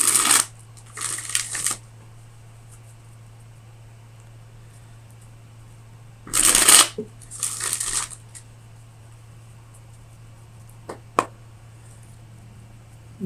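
Tarot cards being shuffled for a reading, in several short riffling bursts spaced by quiet pauses, close up, with a faint tap or two near the end.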